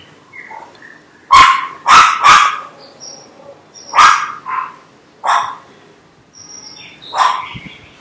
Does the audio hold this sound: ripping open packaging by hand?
no